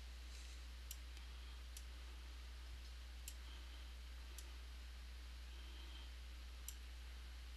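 Computer mouse clicks sound at irregular intervals while nodes are placed one at a time on an outline for a laser-cut Tuxedo Mask cosplay piece, faint and sharp over a steady low hum, with no voices.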